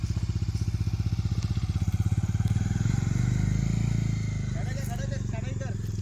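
A Bajaj Dominar 250 motorcycle fitted with an Autologue Design Xplorer body kit being ridden, its engine thumping in a fast, steady pulse that swells as it pulls away, with people talking nearby.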